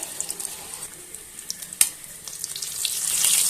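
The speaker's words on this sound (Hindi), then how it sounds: "दूसरा कबाब लेंगे और फ्राई करेंगे।" Chicken kebab frying in a pan for a sandwich, a soft, steady sizzle with scattered crackles and pops that grows slightly louder toward the end, with no talking.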